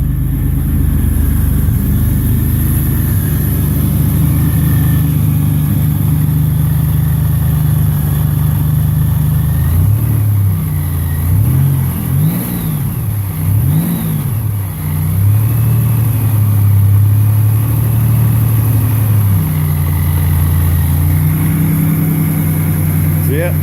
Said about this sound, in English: I think the packing on my muffler's gone bad and the thing's almost as loud with the cutout open or closed